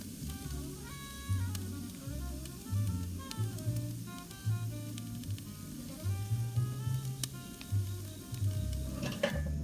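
Ribeye steaks sizzle in a pan, a close, continuous frying crackle with rhythmic low thumps and scattered pops and clinks throughout.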